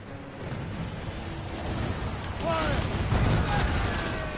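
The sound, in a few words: ship cannon fire in a video game naval battle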